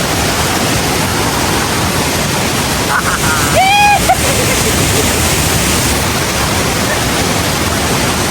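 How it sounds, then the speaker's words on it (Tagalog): Kaparkan Falls, a waterfall in the Philippines, pours in a steady, loud broadband roar that fills the whole scene, with a few brief sounds briefly rising above the rush. "Amazing talaga ang Kaparkan Falls."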